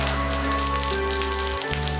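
Steady rain falls outdoors, a constant, dense hiss at an even level across the whole stretch, with a low continuous drone beneath and no voices.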